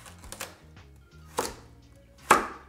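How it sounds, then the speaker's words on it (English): A knife chopping carrots into chunks on a board, a few distinct close thuds spaced out, with faint low background hum. "So I'm just going to cut them in two and then into chunks."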